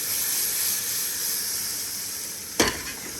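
A Walmart wagyu ribeye sears in a hot pan with garlic and about a tablespoon of butter, giving a steady close sizzle and hiss that flares briefly louder near the end.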